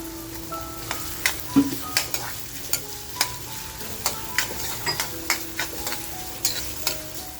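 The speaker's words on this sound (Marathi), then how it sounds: "आता आपण जो कांदा कापून घेतलाय तो कांदा टाकून छान असा फ्राय करून घेऊया" Chopped onion frying with garlic in a pan for a village-style vazdi masala, a steady soft sizzle broken by regular sharp taps and scrapes of a stirring spoon, close up with no talk.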